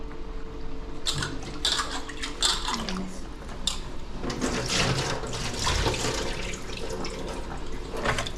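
Running water splashes and gurgles in a sink while raw chicken is rinsed by hand, with intermittent bursts of sloshing.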